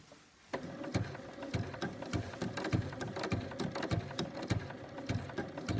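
A domestic sewing machine running a wide three-step zigzag stitch along a raw fabric edge, a steady fast mechanical clatter with rhythmic needle thumps starting after a brief pause, close and fairly loud with no talking.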